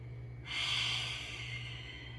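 A single deep breath during a yoga exercise, a close, soft exhale lasting about a second over a low steady hum.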